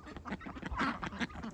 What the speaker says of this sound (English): The drake is talking somewhere.